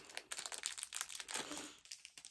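A plastic bag holding two bright pink items crinkles close up in a quick run of sharp rustles and crackles, with no voices.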